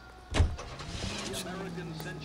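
In the L.A. Noire video game, a car door thud is followed by an engine starting and settling into a steady hum with a rising tone, heard up close while a voice talks over it.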